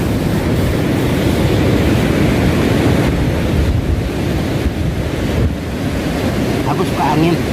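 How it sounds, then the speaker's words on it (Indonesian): Strong wind gusts at Batukaras Beach buffet the microphone over crashing surf, a loud, continuous roar of rumbling wind and waves that runs unbroken from start to finish. "Aku suka angin"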